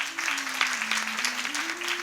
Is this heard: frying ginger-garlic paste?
no